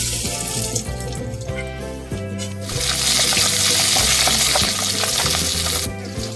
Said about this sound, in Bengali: পাবদা মাছগুলি ভীষণ ফাটছে